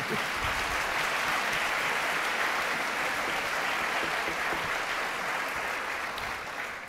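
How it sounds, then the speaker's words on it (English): An audience at a political candidates' forum applauds in a dense, even wash of clapping that holds steady throughout and fades slightly at the end, with no talk over it. "I think we can applaud them all now"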